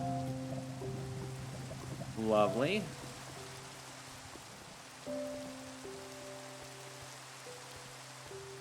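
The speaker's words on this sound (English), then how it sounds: "Not while it's raining." Steady rain falls in a hostile video game level, a soft continuous hiss under background game music, with a brief voice speaking once.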